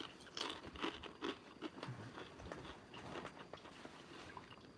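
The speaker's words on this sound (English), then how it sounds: "Hopefully you guys don't mind me chewing on a couple of chips while we wait." Potato chips being chewed up close: steady, crackly crunching that keeps going with no pause and no talk over it.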